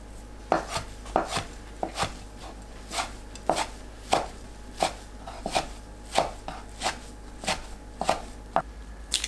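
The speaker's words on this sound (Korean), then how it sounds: "씻은 파래를 가로 세로 1cm 크기로 썰어줍니다." A knife chops washed sea lettuce (parae) into 1 cm pieces on a cutting board, sharp close knocks at a steady, slightly uneven rhythm of about one or two per second.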